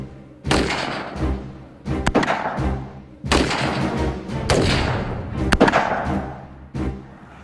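An Army Special Forces weapon fires during close-quarter battle training. Several sharp, loud, echoing shots come at uneven intervals, some closely paired, with a reverberant tail after each.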